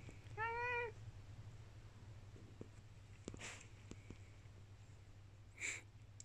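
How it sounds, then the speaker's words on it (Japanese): A kitten gives one clear, high, wavering meow early on, close by, then faint snuffling and small rustles follow, with a brief sniff or snort near the end over a low steady hum. "ほら、坊ちゃんが開けると子猫たちが出ちゃうんだって。"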